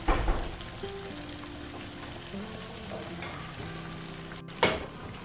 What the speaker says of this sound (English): So we stir.